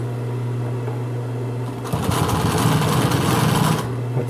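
A Consew 206RB industrial sewing machine hums at idle, then runs a burst of smaller stitches for about two seconds with a rapid, close, rattling chatter before dropping back to its steady motor hum.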